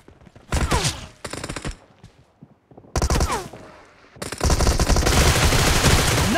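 Close, loud gunfire from PUBG, with two short bursts of automatic fire, a pause, then another burst leading into sustained shooting.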